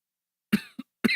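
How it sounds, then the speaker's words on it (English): Two sharp coughs close to the microphone, the first longer and trailing off, followed by a short third burst, with quiet before them. "just coughing right into the microphone"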